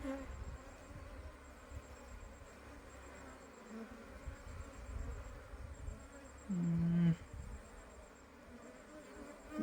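Honeybees in a hive lodged inside a borewell fill the air with a steady, dense buzzing hum, a louder tonal drone swelling briefly near the end. No one speaks.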